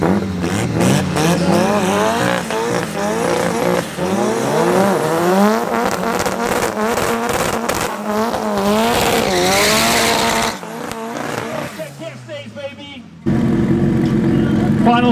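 Cars race down the track at Midvaal Raceway during Cashdays, engines roaring and revving loudly and close, tyres squealing, with gear changes rising and falling before a sudden drop to a steadier drone.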